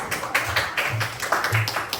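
Students in a classroom clap for classmates about to present their project, with a run of sharp, fairly close claps in an uneven rhythm and faint voices beneath.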